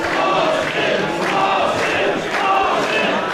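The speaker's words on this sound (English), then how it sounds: "the crowd here in Atlanta getting behind the challenger" A wrestling crowd at an indoor ballroom event in Atlanta cheers and roars steadily, a loud, dense wash of voices with no breaks.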